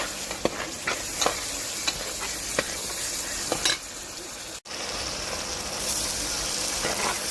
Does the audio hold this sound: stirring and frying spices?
yes